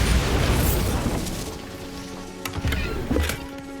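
A Bombarda spell explosion in the video game Hogwarts Legacy opens with a loud booming burst, then decays into rumbling debris and a few sharp cracks, with no talk.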